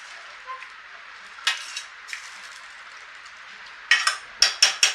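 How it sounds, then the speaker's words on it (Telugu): Mutton curry with onions stirred in a pan, a spoon scraping in short, irregular strokes, closer and quicker toward the end, with a soft sizzle underneath. "ఇప్పుడు కర్రీని ఈ విధంగా కలుపుకోవాలి మటన్ అంతా ఇలాగా ఆనియన్ పట్టే విధంగా కలుపుకొని"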